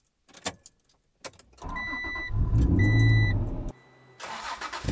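An Acura NSX fitted with a new ARC exhaust and tailpipe cranks and fires up close by, settling into a loud, steady idle with a deep rumble before the revs drop and the engine cuts off.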